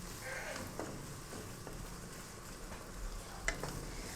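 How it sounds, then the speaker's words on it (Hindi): Chicken frying in a spice masala with chili garlic sauce in a pan for a chicken vegetable macaroni dish, a faint, steady sizzle with occasional soft scraping stirs and one sharper clink, no talking. "मसाले में चिकन को भून लेंगे"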